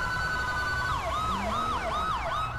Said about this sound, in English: Alright, I'm turning my siren off.